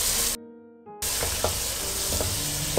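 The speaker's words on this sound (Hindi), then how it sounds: "टमाटो को आप हल्का सा पकाएं।" Tomatoes sizzle and fry in a pan for chicken fried rice, a steady hiss that cuts out for a moment. Soft stirring clicks follow, and no one speaks.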